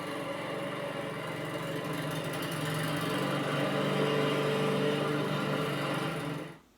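A lawnmower engine runs with a steady, close mechanical drone that holds even for several seconds and then cuts off abruptly at the end, heard alone without talking.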